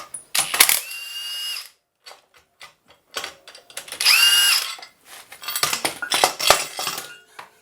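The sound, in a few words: pulling the crank pulley off a 2nd gen Neon engine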